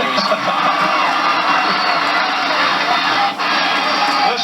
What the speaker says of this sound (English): Listen to the crowd. It's unbelievable.